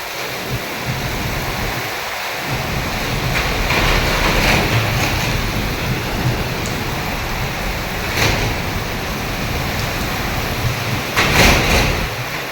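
Heavy rain pouring during a storm with strong wind, a loud continuous roaring wash with a few louder gusts, no talking.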